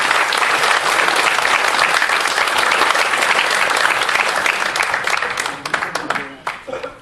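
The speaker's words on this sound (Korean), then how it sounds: "박수 한번 부탁드립니다" A lecture audience at a Korean contemporary history talk breaks into loud, dense applause that holds steady, then thins into scattered individual claps before fading.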